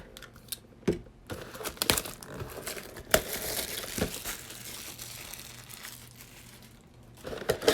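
Bowman trading card packs are torn open by hand, giving crinkly foil ripping and crumpling bursts in irregular close-up spurts, fairly quiet with gaps between.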